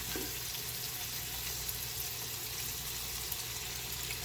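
Corned beef hash crisping in a pan gives a faint, steady sizzle with light crackles, quiet and continuous, no voices.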